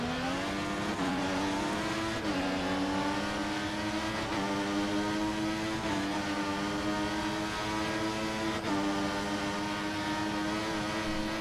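A Caterham race car engine screams continuously during a race, its pitch climbing through the gears and briefly dropping at each shift, loud and steady with no talk.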